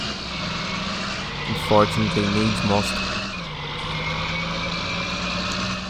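A tractor engine in Farming Simulator 19 drones steadily at a low, even pitch while someone talks over it, with a brief dip in tone partway through.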